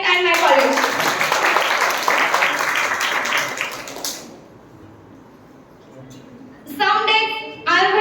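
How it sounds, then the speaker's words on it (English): Audience clapping in a college hall during a student program, a loud burst of applause that fades into quiet room tone after a few seconds before a voice starts speaking. "I would like to a big clap for English department and my college."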